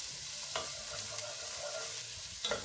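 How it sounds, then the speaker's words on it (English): Garlic and onions stirred in a pan give a soft, steady sizzle with faint scrapes of a spoon now and then, fairly quiet and close. "we're just going to stir that"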